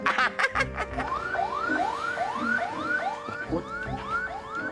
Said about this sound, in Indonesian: Agak deg-degan gue kalau dengar suara sirine.